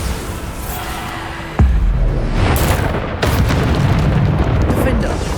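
A Bombarda spell explosion in the video game Hogwarts Legacy lands as a sudden loud boom with a deep low thump, followed by rumbling blasts and a whoosh, with voice-like game sound around it.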